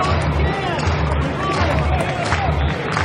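Crowd hubbub fills a jammed baseball stadium during a decisive college game, a steady dense roar of voices at even loudness throughout.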